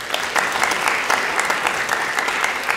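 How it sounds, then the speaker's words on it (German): Audience applause at a youth debate event with state election candidates, dense and steady clapping from a crowd throughout. "Ein Applaus für Grace."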